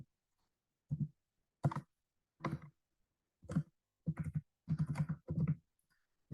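Computer keyboard keys are pressed in short separate clicks and taps, about eight bursts spaced irregularly, close and fairly clear with quiet gaps between them and no talk.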